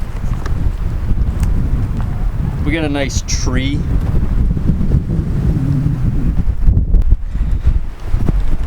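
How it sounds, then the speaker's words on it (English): Strong wind on a hilltop during a sunrise hike roars steadily across the microphone, loud and constant, while someone speaks briefly over it. "it's quite windy up here"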